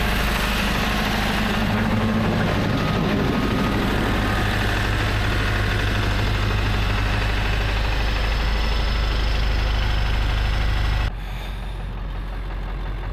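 A tow truck caught in a snowy ditch during a snowstorm runs its engine hard, with a loud, sustained low rumble held at high revs for about eleven seconds before it drops back to a quieter idle.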